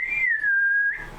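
A person whistles a single sustained, gently sliding tone, imitating an elf's whistle; the clear note holds steady for about a second before fading.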